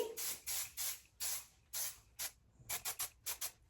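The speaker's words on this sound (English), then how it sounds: "I'm gonna go ahead and hit it with some hairspray." Short bursts of Aussie Instant Freeze hairspray hiss from a can held close, about a dozen quick sprays in an uneven rhythm.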